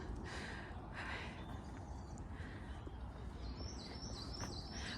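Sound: birdsong

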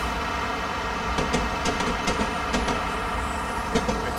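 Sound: train running at full throttle in video game Train Simulator 2017

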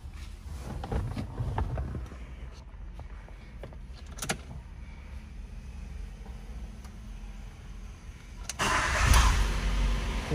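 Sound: car engine starting

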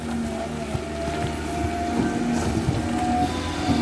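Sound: Caterpillar diesel engine of amphibious excavator running

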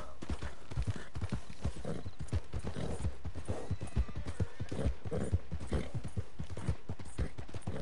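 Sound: horse galloping in a video game

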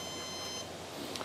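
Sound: beep from rocket electronics bay switch turned on

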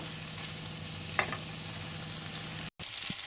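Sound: pasta frying in a pan with black pepper

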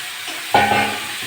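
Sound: potatoes added to fried spice paste, sizzling

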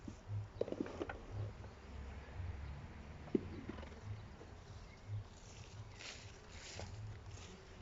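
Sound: honeybee swarm buzzing at an apiary

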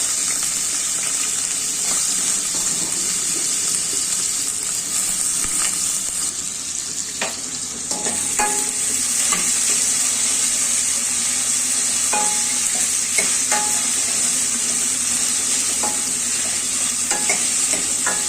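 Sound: vegetables being stirred in a pot

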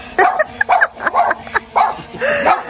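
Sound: dog barking excitedly

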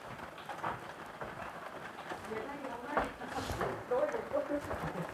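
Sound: rain falling on storm-damaged homes

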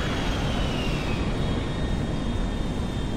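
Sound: large cargo plane landing

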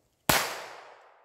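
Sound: Taurus TX22 pistol gunshot

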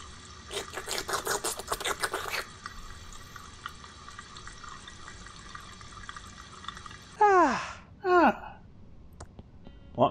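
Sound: water fountain running, from the video game Thimbleweed Park

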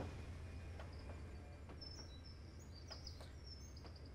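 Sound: birds chirping in Trainz Simulator 3 video game

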